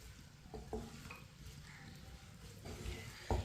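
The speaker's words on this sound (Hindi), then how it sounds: "ऐसे ही चम्मच चलाते हुए इसे ब्राउन करना है, जलने नहीं देना बिल्कुल भी" Long-cut onions browning in a pan over medium heat, with a spoon scraping and stirring through a soft, continuous sizzle and occasional clinks against the pan. The sound is faint and close, with no talk.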